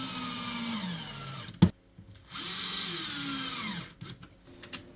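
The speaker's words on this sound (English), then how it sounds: "Line up your track with the holes and put in a couple screws." A stubby drill runs close by while driving screws into a metal cabinet track, with two whirring bursts separated by a sharp clunk and a pause, then a few short taps and clicks.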